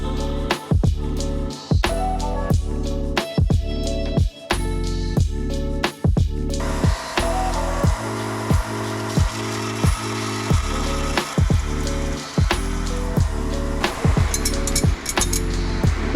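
Steel spacers for mounting a turbo FD rotary engine in an FC RX7 drift car are cut and ground, with a loud, steady grinding whine and repeated sharp metallic clinks and breaks as the tool is applied.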